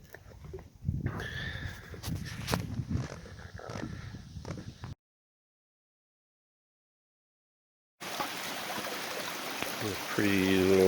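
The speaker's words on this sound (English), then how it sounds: "A pretty little waterfall that this trail crosses over, and that goes down into the lake" A small waterfall on a November hiking trail at Hardy Lake spills beneath the path down into Lake Muskoka. Its steady, close rushing is cut by a few seconds of total silence, then returns with thin whistling tones over it.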